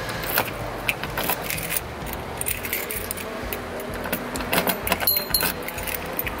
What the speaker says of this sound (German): wir wissen nicht mehr, welcher Schlüssel passt.